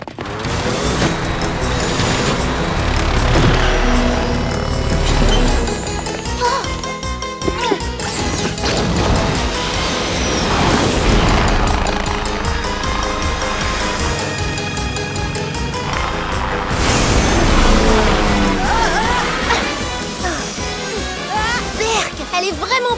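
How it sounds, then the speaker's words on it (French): A cartoon clown car speeding along with loud crashes, clatter and zany effects over a busy music score, with animated voices talking between the impacts. "Suivons cette voiture de clown."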